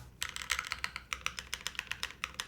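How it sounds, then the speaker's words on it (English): Rapid typing on a QK80 custom mechanical keyboard with a slightly metallic character, a quick, close, even run of crisp keystroke clicks with no talk. "It doesn't solve the entire keyboard sounding a little bit metallic-y in certain areas."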